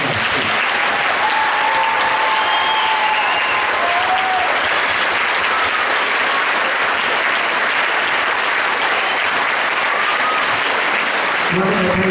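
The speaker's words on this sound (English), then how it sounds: "But one more round of applause for our senior class." Loud, continuous crowd applause for a high school marching band's senior class, holding steady for several seconds with some voices faintly mixed in.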